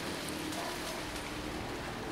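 Irrigation water dripping and splashing steadily over bonsai in a garden, a dense, even patter like light rain on leaves and soil, continuous and close with no talk.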